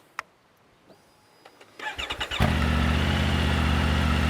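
A motorcycle engine starts after a few faint clicks and settles into a steady, loud running note at gentle throttle while the bike is walked around in a circle.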